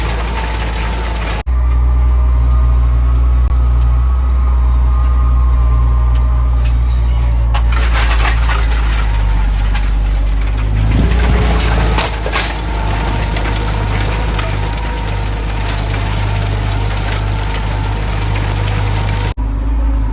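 A tractor engine runs steadily at about 1,000 to 1,100 RPM while planting winter wheat at about 10 km/h. It makes a loud, close, constant drone with a strong low hum, and a brief change in tone comes partway through.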